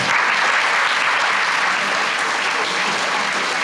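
Dense, sustained applause from an audience at an award ceremony for graduates, steady and loud throughout with no break.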